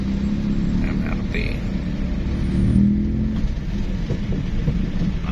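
Late-night traffic jam on the Jagorawi toll road: a dense, continuous wash of idling and creeping car engines with road rumble and occasional revving, heard close around a stopped vehicle.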